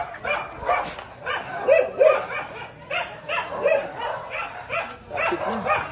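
Several dogs bark, yip and whimper in repeated bursts, fairly close and loud, with a few faint voices mixed in underneath.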